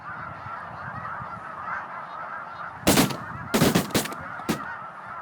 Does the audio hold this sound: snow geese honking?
yes